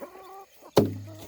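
Chickens near baby chicks give a couple of short, faint clucks, then a sudden loud knock or thump rings out close by with no talk.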